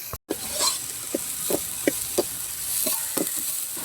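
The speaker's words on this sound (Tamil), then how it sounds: "இப்போது பொடியாக நறுக்கி வச்சிருக்கிற வெங்காயத்தை இதில் சேர்த்து நல்லா வதக்கிக்கோங்க." Finely chopped onions fry in a pan with curry leaves, a steady sizzle broken by repeated scraping stirs of a spatula at a regular pace, close and fairly loud, no talking.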